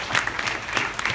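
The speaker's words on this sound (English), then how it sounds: "Give yourselves a round of applause." Brief burst of audience clapping in a room during a panel session, a handful of distinct claps over a murmuring crowd.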